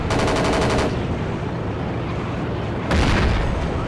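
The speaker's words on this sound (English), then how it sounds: "Their rockets are hitting us hard." Rockets striking a tank in the Battlefield game, loud, dense blasts and rapid cracking impacts, with a burst near the start and another heavy hit toward the end over constant battle noise.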